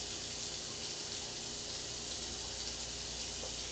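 Running tap water streams steadily into a sink as strawberries are rinsed, a faint even rush of water with no talk.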